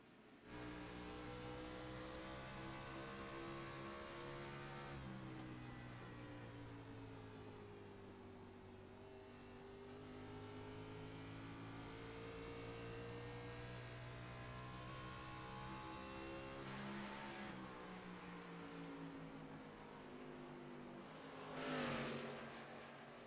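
Onboard race car engine in a racing video game at Iowa Speedway, a loud, steady droning roar that rises and falls in pitch through shifts and corners, heard alone with no talk.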